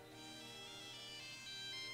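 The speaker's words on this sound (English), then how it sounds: "it's my dad's satellite phone." A satellite phone rings in the LEGO Jurassic Park III video game, a faint, steady electronic tone held for about two seconds with no talking over it.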